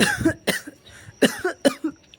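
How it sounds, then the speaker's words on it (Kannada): A person coughs several times in close, sharp bursts, with short pauses between the groups of coughs and no talking. "ಯಾಕೋ ಕೆಮ್ಮು ನಿಜವಾಗ್ಲೂ ಬರ್ತಾಯಿತ್ತು"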